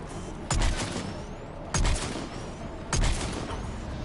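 Mass Effect 3 video game gunfire, three loud single heavy shots spaced about a second apart over a steady background rumble of battle.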